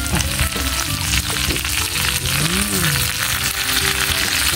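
Tilapia fries in a pan with a loud, steady crackling sizzle that fills the whole stretch, while faint tonal background sounds drift underneath.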